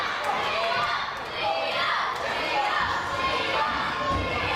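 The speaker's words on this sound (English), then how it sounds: "This crowd chanting for Liam, getting behind the bad boy" A crowd at a W3L wrestling streetfight show roars and chants in a continuous, loud wall of mixed voices, close and unbroken throughout.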